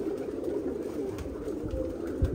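Rooftop pigeon loft with several fancy pigeons, including black-tailed birds, cooing steadily; a continuous low warbling coo throughout, fairly close and alone, with a few soft thumps near the end.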